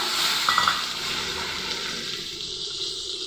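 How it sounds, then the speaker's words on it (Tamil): Water poured from a pot of boiled lentils into a pan while making idli sambar with ration dal, a steady close splashing pour with faint frying sizzle behind, easing off toward the end. "வேக வச்ச பருப்பில் இருந்து எடுத்து தண்ணி போட்டுக்கங்க"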